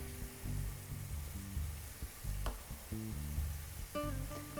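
Shrimp sizzling and frying in a hot pan, a steady crackle over a low, droning background hum, with a brief sharper clink near the middle; no voices.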